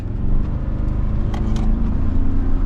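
A 2024 Toyota Tacoma TRD Sport 4x4's 2.4-liter turbocharged four-cylinder engine idles and hums steadily with a deep, even rumble, close and fairly loud, with no talking.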